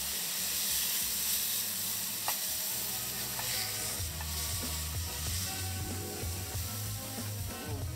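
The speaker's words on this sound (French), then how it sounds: "Dans une poêle bien chaude, on va ensuite faire dorer la viande des deux côtés." Burger meat sizzles steadily in a very hot frying pan for a blue cheese and bacon burger, a close, continuous crackle with occasional sharper pops and scraping, no talk.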